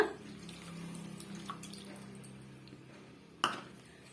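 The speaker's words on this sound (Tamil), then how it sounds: "இது கூடவே அதே கப்பால முக்கால் கப் அளவுக்கு நம்ம தண்ணி சேர்த்துக்கலாங்க" Water trickles and splashes steadily into a bowl of vermicelli paniyaram batter, with a soft wet squish near the start and a sharper clink near the end.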